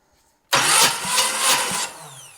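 A 1976 Camaro engine cranks over on the starter during a compression test, a sudden loud burst of rhythmic chugging pulses lasting over a second before cutting off, with no talk.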